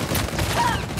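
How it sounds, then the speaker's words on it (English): Short burst of gunfire in an Uncharted 4 multiplayer match, loud and close, with game effects layered through the one-second moment. "That guy was just blind firing in the air and luckily got me"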